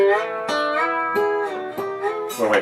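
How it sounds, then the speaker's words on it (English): Guitar strings are plucked without any right-hand muting, so each new note arrives over the still-ringing ones. Roughly every half second a note rings out in a loud, sustained, overlapping wash, and a busier flurry closes the phrase. "If I played that without any muting, it'd sound like this."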